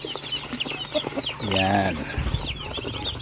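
Rhode Island Red chickens cluck nearby. Soft clucks and scratchy bird sounds run throughout, and one louder drawn-out call rises in the middle. A voice speaks briefly.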